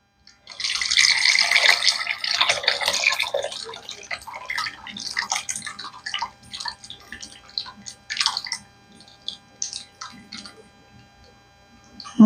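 Liquid pours steadily into a pot while hog head souse is being cooked, a loud splashing stream at first that breaks into shorter trickles and drips, heard close up with no talking.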